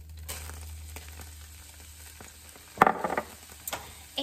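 Onions and mushrooms fry in butter in a pan, giving a steady soft sizzle. A sharper crackling burst and a few light clinks come near the end.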